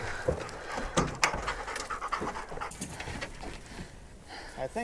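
Several deer-hunting hounds pant hard and fast at close range, a steady rapid breathing with a few whimpers and light thumps, while a person speaks briefly nearby.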